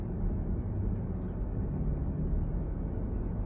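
Steady low road rumble and tire noise fill the cabin of a 2025 Genesis G80 while it drives, a constant, moderately quiet drone with no talking.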